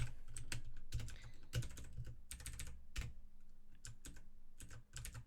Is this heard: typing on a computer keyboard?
yes